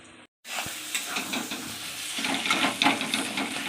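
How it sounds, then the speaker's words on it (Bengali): Spices frying in a pan for a Bengali-style chicken and jackfruit curry: a steady close sizzle with stirring scrapes, starting after a brief moment of quiet. "ওই জন্য সবসময়ের জন্য মশলাটা ভালো করে ভেজে নিতে হয়।"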